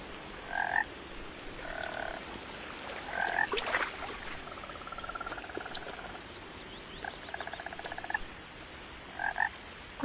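Frog croaks in the game What Remains of Edith Finch, short paired calls repeating at intervals over a soft ambient bed, with a few faint scattered clicks in between.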